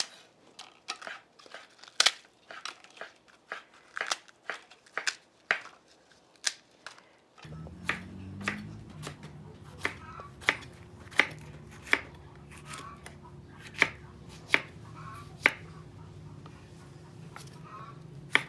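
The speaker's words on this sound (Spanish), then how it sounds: "Ahora voy a partir el chicharrón en unos pedazos grandes y Brenda va a picar el jitomate." A knife chops on a board in steady, sharp, close strokes, first through pork crackling and then through tomatoes, the chops spaced evenly over a low background hum.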